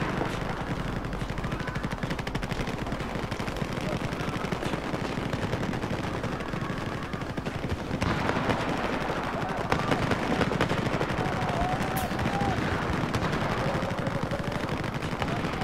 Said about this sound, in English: There's someone shooting at me from over here.